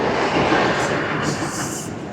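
The Katra–Badgam DEMU train rumbles at Srinagar station, a steady near roar with brief higher hissing bursts, fading slightly at the end.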